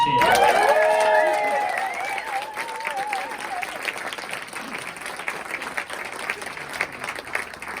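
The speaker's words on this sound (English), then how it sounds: "please give them a big cheer" Wedding guests cheer and applaud the photographers, starting with loud whoops and voices over clapping, then settling into steady, fairly close applause.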